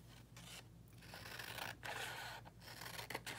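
Scissors snipping through paper to cut out collage triangles, a run of close, quiet cuts and rubbing strokes with short pauses and no talk.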